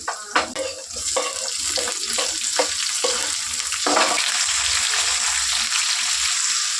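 Tomatoes tip into a pan of onions and cumin frying in oil for a North Karnataka ridge gourd dish, a loud sizzle with stirring scrapes and clinks against the pan, close with no talk.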